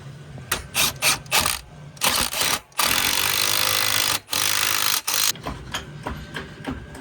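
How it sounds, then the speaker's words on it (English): A ratchet wrench clicks in quick bursts while a shock absorber is bolted back onto a Honda Rubicon 500 ATV, mixed with a few longer whirring runs of a power tool, close and loud. "We can bolt our shock back up."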